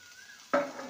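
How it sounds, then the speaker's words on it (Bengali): Deboned rohu fish pieces drop into a pan of frying onions, a sudden loud sizzle bursting in after a quiet moment and then slowly tapering off. "এবার মাছগুলোকে যে কাটা ছাড়িয়ে নিয়েছি সেটা দিয়ে দেবো, মাছের ঝুড়োগুলো।"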